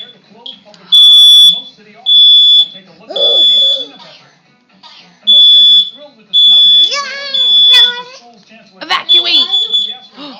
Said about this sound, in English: Mommy made the fire alarm go off.